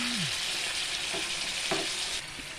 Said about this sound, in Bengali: সামান্য নেড়ে চেড়ে এই দু মিনিট মতো একটু কষিয়ে নেব